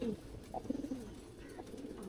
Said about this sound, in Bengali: এই যে নর কবুতর